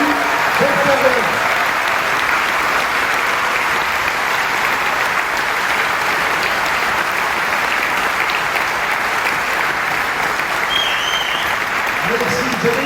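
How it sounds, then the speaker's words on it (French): A concert audience gives a thunderous ovation for the Andalusian orchestra of Amsterdam, a thick, sustained roar of clapping that stays loud and even for nearly thirteen seconds, with faint voices and brief cheers at the edges. "faire un tonnerre d'applaudissements pour l'orchestre Andalous d'Amsterdam"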